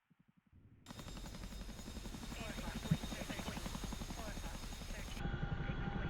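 A CH-47 Chinook helicopter in the DCS flight simulator sets up a steady, rapid rotor thump that starts after a few soft beats and holds loud and constant, with a faint high whine above it.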